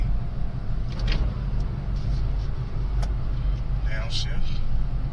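Toyota GR Corolla taking a corner at speed: a steady, close engine and road rumble holds throughout, with faint voices over it.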